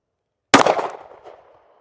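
A single sharp report from an S&W Bodyguard 2.0 .380 ACP pistol firing a Winchester 95 gr round, a loud close crack with a short ringing decay, then quiet.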